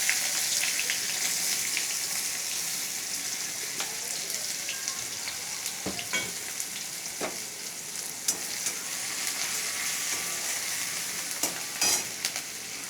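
Finely chopped onions sizzle in hot oil with nigella seeds for a pabda fish curry, a steady bright crackle broken by several sharp scraping clicks as a spoon stirs the pan.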